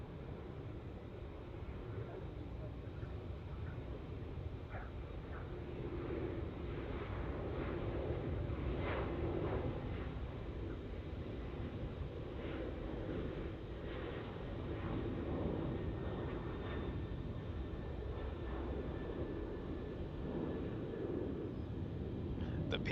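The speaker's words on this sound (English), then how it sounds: "we've got this Qantas taking off" A Qantas airliner takes off at Melbourne Airport, heard as a distant, steady low roar that swells gradually and holds through the stretch, with faint outdoor background noise.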